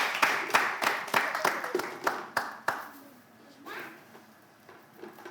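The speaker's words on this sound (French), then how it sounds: "Applaudissez s'il vous plaît" Crowd at a community gathering clapping in brisk, fairly regular bursts that fade out after a few seconds, followed by quieter background talk and a few stray claps.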